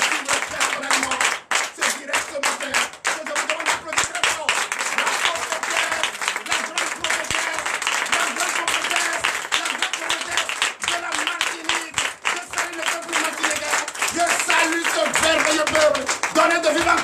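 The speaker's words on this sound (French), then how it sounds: "Vous allez vous lever et donner de vives acclamations à la prophétesse Déborah" A church congregation at a Sunday service in Benin applauding and cheering, with sustained dense clapping and shouting voices filling about seventeen seconds at a steady loud level.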